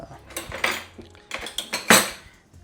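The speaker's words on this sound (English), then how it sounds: "just open the cans." Tight cans of black beans and chopped tomatoes being opened, giving a run of close metallic clicks, scrapes and clanks in irregular bursts, with no talk.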